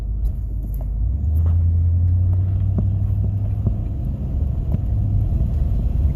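An old pickup truck belonging to a grandfather, one that runs rough when cold, rumbles low from inside the cab as it pulls away and gently accelerates, with a steady engine drone and a few small clicks and knocks.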